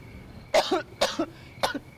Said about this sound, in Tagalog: ang tindi ng ubo mo